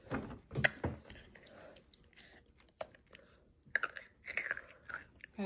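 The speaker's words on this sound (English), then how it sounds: "That was a good crunch." A baby chews crunchy food close up, giving irregular bursts of crisp crunching and biting separated by short quiet gaps.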